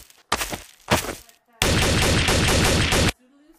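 Gunfire in the video game Trouble in Terrorist Town: two loud separate shots, then a sustained rapid automatic burst of about a second and a half, close and loud.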